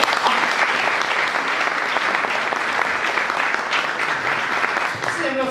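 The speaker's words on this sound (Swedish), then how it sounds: "Ja, visst, en applåd, eller hur?" An audience applauds after a talk at an ideas event, with dense, steady clapping filling the room from start to finish, close and fairly loud, and a voice beginning to speak over it at the very end.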